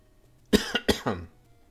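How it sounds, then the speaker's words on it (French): A person coughs in a quick cluster of three or four harsh, close bursts, then goes quiet. "pourquoi je tousse, moi?"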